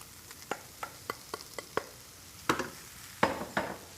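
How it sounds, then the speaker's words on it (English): Mince with caramelised garlic and chili is stirred in a pan, giving a run of sharp, irregular scrapes and clacks over a faint sizzle, heavier and denser toward the end. "Get our mince and our caramelised garlic and chili back into that pan."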